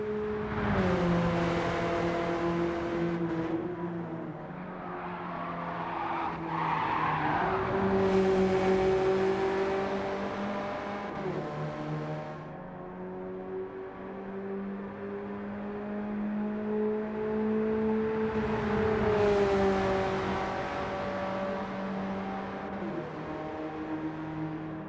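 A Honda S660 race car drives a lap in a Gran Turismo 7 replay, its engine droning loud and steady, rising and falling in pitch through repeated shifts and revs, with no talk.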